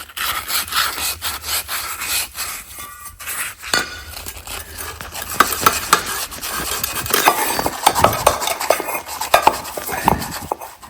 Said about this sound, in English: I'm gonna clean these bushing with sandpaper, just lightly.